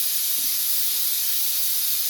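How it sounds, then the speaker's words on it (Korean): Steam venting from a stone dolsot pot of freshly cooked rice, a loud, continuous, close hiss holding steady without a break. "자, 김을 빼도록 하겠습니다"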